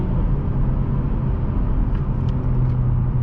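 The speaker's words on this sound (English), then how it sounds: "Really likes to stay in those high RPMs though, which is good in sport mode" Mazda3 Carbon Edition sedan in sport mode, engine held at high RPM while pulling up a ramp, a steady loud in-cabin drone and road rumble with no talking.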